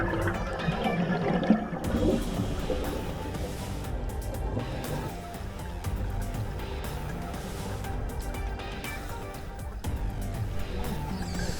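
Water rushes with a constant loud turbulent roar through a narrow, sharp-edged restriction in an underwater cave at Morrison Springs, heard underwater alongside bubbling and gear noise.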